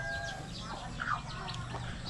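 Chickens and chicks cluck softly at a small farm, a faint brief cluck rising over low background noise.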